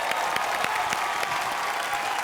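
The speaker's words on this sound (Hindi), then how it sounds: "तो मनोज जी के लिए जोरदार तालियां।" An audience at an IBFA awards show in Malaysia gives loud applause for Manoj Tiwari, a dense, even wash of clapping from a crowd that holds steady throughout.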